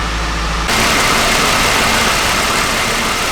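A car engine comes to life after a jump start, a brief low cranking sound followed by a sudden steady roar that settles into a loud, close, even idle.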